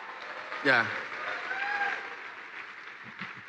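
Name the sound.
applause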